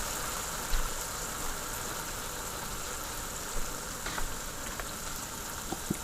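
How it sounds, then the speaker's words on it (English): A chickpea curry seasoning base fries in a pan with a steady, faint hiss and sizzle and a few soft pops and clicks, with no talking. "So it's frying down nicely."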